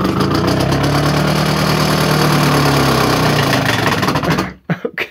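An Adams thermo pulse motor, powered at 120 volts, spins up with a loud, steady, engine-like hum full of buzzing harmonics and vibration that holds for several seconds before cutting off abruptly, followed by a few faint knocks.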